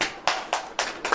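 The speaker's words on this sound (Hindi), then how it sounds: "ताली बजाइए" Rhythmic claps from an audience at a Hindi-language Christian sermon gathering: four sharp, evenly spaced bursts, each fading quickly, fairly close and with no talk over them.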